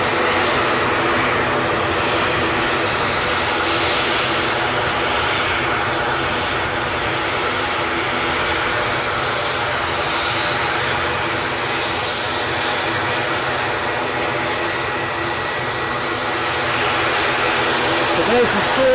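An airliner's engines roar steadily at Edinburgh Airport, a loud continuous jet drone holding throughout, with people talking faintly underneath.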